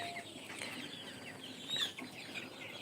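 A flock of forty-day-old broiler chickens on a farm clucks in a constant soft murmur, with one slightly louder squawk midway and no talk over it.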